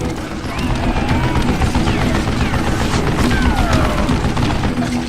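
A mounted gun in the Call of Juarez Gunslinger game fires a loud, continuous fusillade. Rapid shots roll over one another across the whole stretch, with whizzing ricochets and crashes in the mix.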